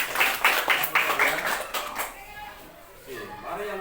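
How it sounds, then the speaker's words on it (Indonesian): Sixth-grade classmates clap together for a student in a classroom, a quick rhythmic burst of claps for about two seconds before it fades and a voice speaks. "Oke, tepuk tangan untuk Arya."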